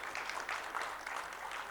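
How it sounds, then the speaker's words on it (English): Audience applause for panelists at an advertising policy panel event, a dense, steady clapping from a seated crowd, heard alone. "May we have another round of applause for all the generous sharing from all our panelists."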